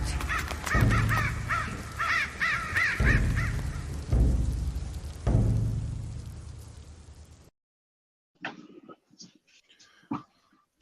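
Crow caws from a music record interlude, several hoarse calls repeating in a steady rhythm over a low drone, loud and close, then a silence followed by scattered faint sounds.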